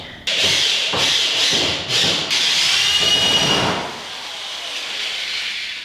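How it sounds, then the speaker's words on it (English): A power drill driving a screw into the wooden casting deck frame of a jon boat being converted into a bass boat: loud, close whine in several short bursts, then a longer sustained run that eases off, with no talk. "Now I just need to screw that piece in, and then we are done screwing together the deck."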